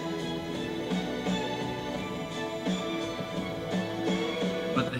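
Orchestral string section playing a sweeping, repeating riff, sustained and steady at moderate level with rhythmic bowed accents throughout, no voices.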